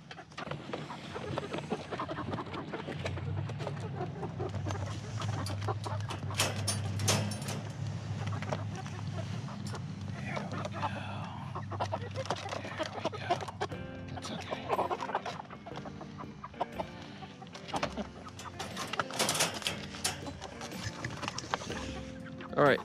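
Chickens cluck and squawk close by in a moving cage amid rustling and clatter, with people talking intermittently in the background.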